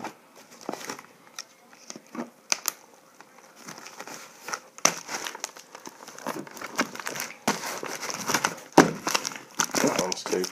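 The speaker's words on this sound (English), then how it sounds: "Strip of duct tape." Strip of duct tape pulled and pressed on around a Leatherman sideclip package, giving irregular crinkling, crackling tears and rustles that grow busier toward the end, heard close up with no voice.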